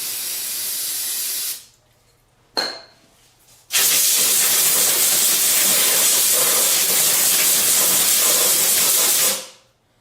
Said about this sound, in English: even some brake clean afterwards and scrub it down so the threads are nice and clean